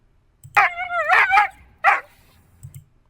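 A dog in a played-back recording barks and yips in several short, whining bursts, with a faint low thud or scuffle between them, heard up close with quiet gaps.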